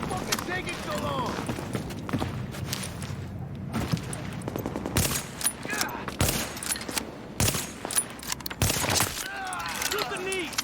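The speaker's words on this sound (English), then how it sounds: "Shoot the knee!" Rapid video game gunfire aimed at an enemy's knees during a survival run, sharp repeated shots in irregular bursts with clattering thuds, under frantic shouted talk.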